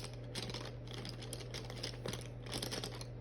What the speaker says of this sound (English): You can hear me rattling around in my pencils over here.